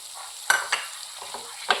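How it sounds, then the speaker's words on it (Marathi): Ground coriander, cumin powder and garam masala roasting in oil in a pan for palak paneer, heard as a steady faint sizzle broken by several sharp scraping stirs of a spoon against the pan. "हे सर्व मसाले एकत्र भाजून घ्यायचे"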